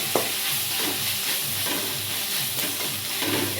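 Tomatoes frying in a pan for dahi tadka, a steady close sizzle with stirring scrapes running throughout, no voices.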